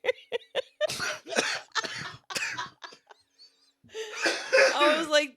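A burst of coughing erupts after a stretch of chatty talk and laughter during a casual cannabis session, the rough, broadband hacks close and loud, running for over a second at the end.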